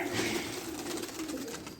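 Pigeons cooing on a rooftop loft, a steady low murmur of coos running continuously at moderate level with no talk over it.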